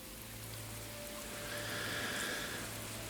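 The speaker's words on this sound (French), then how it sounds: "La pluie tombe, mais on s'en moque." Steady rain patters and hisses across a surface, a soft continuous wash with a faint low hum underneath and no voices.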